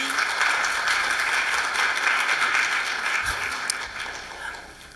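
Audience clapping at a council meeting, a dense, steady burst of applause filling the room for several seconds before thinning out, with voices faintly underneath.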